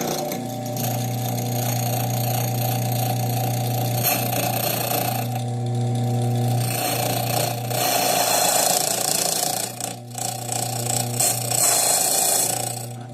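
An Ilco 027A key machine motor running, a strong steady hum with a clear tonal drone, broken by grinding and cutting bursts that briefly dip and surge the sound, close and loud, no talking.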